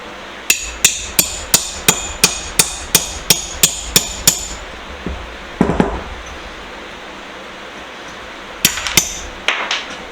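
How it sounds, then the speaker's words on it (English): A small hammer strikes a metal vise in a quick, even series of about a dozen sharp ringing blows, then a pause and a few more hits, close and loud. "My little trusty hammer here."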